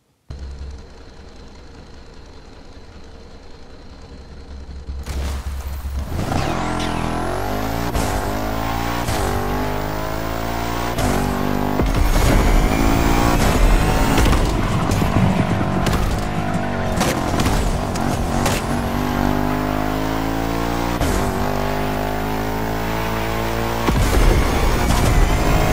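A Bugatti Chiron fitted with the American Rumble kit in The Crew Motorfest video game starts after a quiet intro, then its engine revs hard and loud through repeated gear shifts with rising and falling pitch, continuous and close, with no talking.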